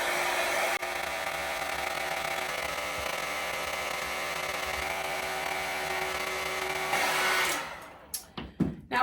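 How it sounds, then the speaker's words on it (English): A heat gun blows a steady, even whirring hiss while warming glass wax melt vessels, holding constant for several seconds before cutting off into a few faint knocks and handling sounds. "I'm just going to use the heat gun and I'm just going to warm the vessel slightly"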